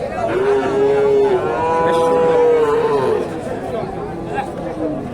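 Friesian bulls at a Bogura cattle farm low out in long, drawn moos, one after another and fairly close, while people chatter steadily in Bengali underneath.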